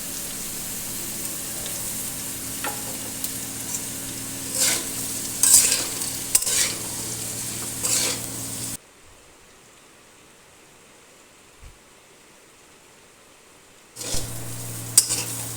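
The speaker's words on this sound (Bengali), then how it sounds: "পেঁপেগুলো আন্দাজ মতো নুন ও হলুদ দিয়ে আবার পেঁপেগুলো ভাজবো।" Papaya pieces fry in a pan with salt and turmeric, a steady sizzle with spatula scrapes and clinks, broken by a stretch of near silence before the frying resumes.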